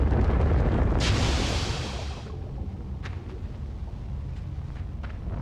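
A sudden whooshing burst of fire in the side-scrolling video game Limbo, loud and broad at first, then settling into a lower crackling rumble with a few sharp ticks.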